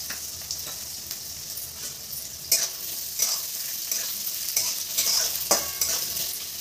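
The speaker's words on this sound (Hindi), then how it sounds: "इसमें कटे हुए आलू और मूली को डाल लें" Chopped potato and radish sizzling with browned onions in a pan, a steady bright hiss broken by repeated scrapes and clinks of a spoon stirring through the vegetables, close and with no talking.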